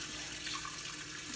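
Water runs steadily from a tap into a sink during handwashing, a continuous close hiss and splash with no talk.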